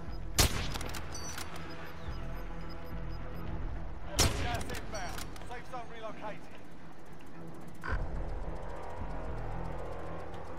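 Sharp gunshots from a sniper rifle in the video game Warzone, with loud cracks near the start and around four and eight seconds over steady game ambience and other distant firing.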